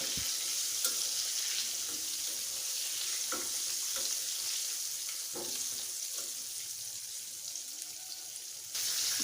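Chicken wings fry in hot oil in a pan on a stove, giving a faint, even sizzling hiss with a few soft clicks and knocks of cookware, and no one speaking.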